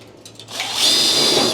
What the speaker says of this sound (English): I'm gonna zap a screw in this little patch that I'm making